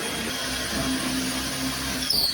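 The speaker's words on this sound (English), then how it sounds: "Then drill a bigger hole" A steady, loud drilling whine runs throughout, with a slight shift in pitch near the end as the bit bites deeper.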